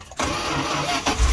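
A Dodge van's 360 V8 cranks and catches on a cold start, a brief loud churning burst that runs steadily for about a second before a low rumble swells at the end.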